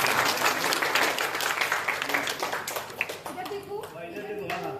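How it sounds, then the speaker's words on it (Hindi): Audience applause at a state-level painting competition, dense clapping for about three seconds then thinning out as a voice begins speaking over the end. "एक बार जोरदार तालियां बजा दीजिए"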